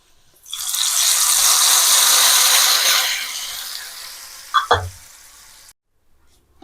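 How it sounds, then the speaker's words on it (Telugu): A hot spice tempering is poured into cooked lentils with spinach, and a loud burst of sizzling hiss erupts at once. It fades over a few seconds, a couple of clinks follow, then it falls quiet. "ఇప్పుడు ఈ తాలింపుని పప్పులో యాడ్ చేసుకుందాం."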